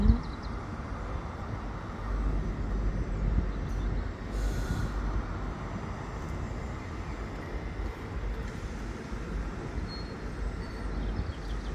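Diesel train engine revving at Edinburgh Waverley station, a steady loud low rumble with a brief rise in the middle, running continuously over busy station ambience.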